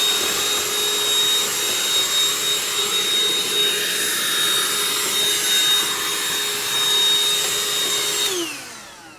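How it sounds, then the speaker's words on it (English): A vacuum cleaner runs with a steady high whine while cleaning a Mercedes air filter housing, the pitch shifting slightly as it works, then shuts off and winds down at the end. "And then I'll hit it again with a vacuum."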